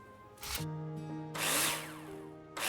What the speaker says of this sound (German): Installing the plasterboard, you need to use screws to attach it. Take your drill out and screw them in.